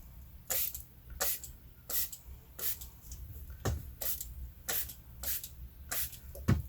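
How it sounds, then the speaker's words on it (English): Repeated sharp hissing bursts of a spray bottle misting water onto a Brusho watercolour painting, about a dozen quick squirts at an uneven pace, close by. "now we will get our water, and I'm going to spray"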